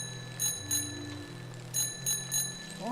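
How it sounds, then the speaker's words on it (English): A small bell rings in the video game Neva: five bright metallic dings in two groups, close and clear over a steady low tonal hum, with no talking. "Oh, a bell!"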